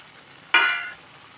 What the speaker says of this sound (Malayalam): ഇനി ഇതിലേക്ക് മൂപ്പിച്ച് വച്ചിരിക്കുന്ന ചേന ഇട്ട് കൊടുക്കുക.